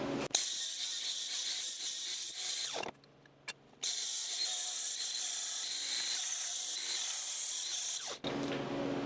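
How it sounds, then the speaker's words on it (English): An angle grinder cuts steel for a snowmobile bumper on a Polaris Indy 500 XC SP, a loud, steady high-pitched shriek in two long runs split by a short pause near the three-second mark. "for these kind of cuts, I just use the grinder."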